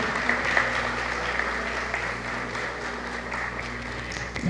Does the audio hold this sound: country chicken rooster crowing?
no